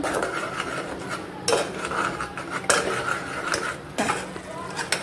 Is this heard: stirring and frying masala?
yes